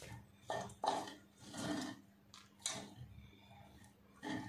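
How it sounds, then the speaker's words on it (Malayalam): Rice being stirred in a pot with fresh mint leaves, a few soft scraping and clinking spoon strokes against the pan at an uneven pace, close by with a low background hum. "പുതിനയുടെ ഇല ചേർത്തിട്ട് നമ്മൾ നന്നായിട്ട് ഇളക്കി കൊടുക്കുന്നു"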